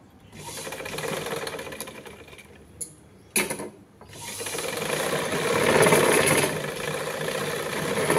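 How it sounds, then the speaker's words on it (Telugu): Sewing machine stitching Kuchipoint embroidery, a steady close mechanical whir with a short pause, a clunk as it restarts, then continuous running for several seconds. "ఇట్లా కుట్టుకున్న దగ్గర ఎప్పుడైనా సరే రివర్స్ చేసి దీనిపైన నుండి ఇంకో కుట్టు కుట్టుకొని రావాలి"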